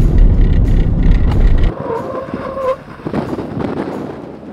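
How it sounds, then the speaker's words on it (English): A 2021 Toyota Tacoma with upgraded brakes stops hard on the road: loud road and engine rumble drops away abruptly, a brief tonal squeal follows, then quieter idling. "All right, we're going to go for a brake check."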